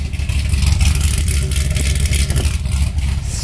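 A Corvette Z06 with its exhaust valves open, a loud, close, throaty rumble that surges and pulses steadily through the whole stretch without talk.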